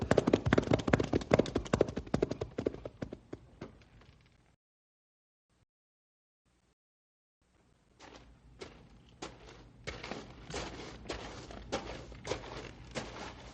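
Horses clip-clop along a trail in an old-time radio drama, a loud, busy run of hoofbeats that stops and falls silent for several seconds, then a steadier, slightly softer hoofbeat rhythm resumes and continues to the end.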